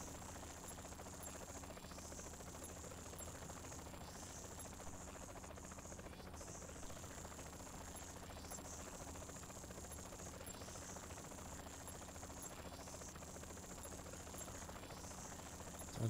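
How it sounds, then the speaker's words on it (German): A helicopter in the video game Saints Row gives a faint, steady rotor drone and hum, unchanging and distant-sounding throughout, with no voices. "Wie sind wir schlau, machen das mit einem Hubschrauber."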